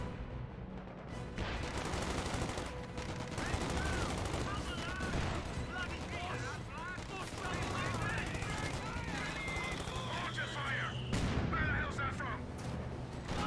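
Company of Heroes 2 battle audio, with constant mortar and artillery fire, rattling machine guns and repeated booming impacts layered densely under a commentator's steady talk.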